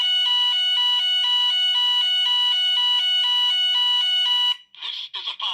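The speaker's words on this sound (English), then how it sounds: "This is a fire alarm. Please leave the building immediately by the nearest available exit." A Gent building fire alarm blares a loud, steady two-tone electronic pattern, repeating evenly for several seconds before it cuts off and a recorded evacuation announcement voice begins.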